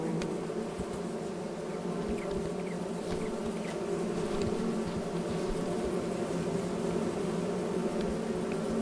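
A dense, steady buzzing of many bees in a farming video game fills the scene, a continuous droning hum with no voices.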